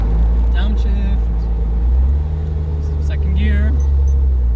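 A 2001 Porsche 911 Carrera 4 (996) engine hums at low pitch from inside the cabin, with a brief rev blip and shifting tone as it downshifts, over deep road rumble while people talk.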